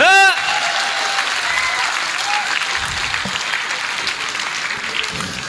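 Crowd at a Holi-special Hindi comic poetry show applauding the poet Vinod Paal, sustained clapping that starts right after a brief tonal burst and carries on evenly, slightly thinning toward the end.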